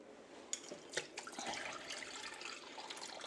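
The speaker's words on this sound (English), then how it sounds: "So the very first thing we're going to do is to drain this." Liquid drains from a container of sauerkraut in a kitchen, a quiet trickling splash with a few small drips and spatters, close by and without talk.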